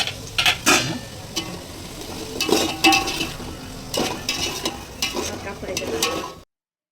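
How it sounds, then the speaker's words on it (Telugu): Onions fry in hot oil in a wide pan for a Rayalaseema-style fish curry, a sizzling hiss broken by repeated scraping and clinking stirs, close and fairly loud, then abrupt silence. "ఆయిల్ వేడెక్కిన తర్వాత ఉల్లిపాయలు ఇలా వేసుకొని వేగించుకోండి"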